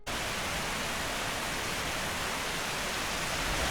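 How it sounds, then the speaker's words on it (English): Rain pouring outdoors during a storm, a constant dense hiss of falling water that stays even and loud from start to finish with no voices. "Believe it or not, I'm glad we're getting the rain."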